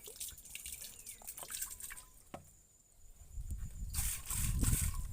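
Water drips and splashes while a bottle is washed by hand, with scattered close drops and trickles that grow into a louder, fuller splashing toward the end.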